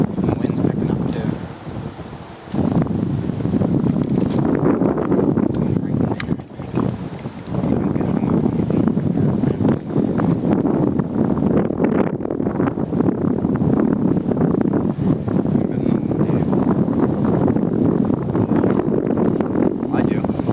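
Wind gusts buffet the microphone aboard a bass fishing boat on a lake weed bed, making a constant rushing roar with brief dips, while people talk throughout.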